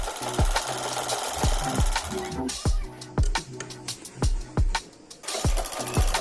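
A sewing machine stitches the neckline of a top, lining fabric set against the front piece, in a series of short rhythmic bursts of rapid thumping broken by brief pauses, close and clear.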